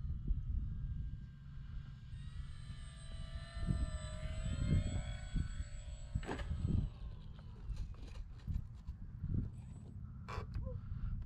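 A radio-controlled model airplane, an Arrows RC Bigfoot, comes in to land outdoors, its small electric motor whining at a steady pitch for several seconds before fading, with low wind rumble and a crow cawing nearby.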